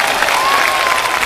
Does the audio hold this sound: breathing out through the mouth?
no